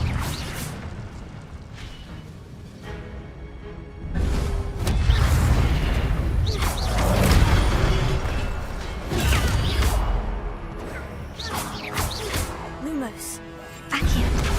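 Spell effects in Hogwarts Legacy, including the Incendio fire spell, burst out as a loud booming whoosh with crashing and mechanical clatter, mixed with a person talking over the action.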